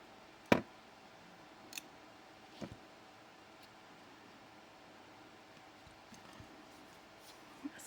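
Wire cutters snip off excess jewelry wire while making earrings: one crisp, close snap early on, followed by a few faint clicks and handling noises in an otherwise quiet room.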